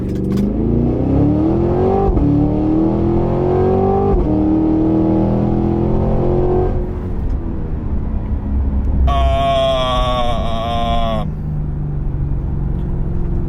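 A 2023 Cadillac Escalade-V V8 launches from a stop, loud engine roar rising through several upshifts from inside the cabin, followed by a steady cruise rumble with a brief high-pitched tone partway through.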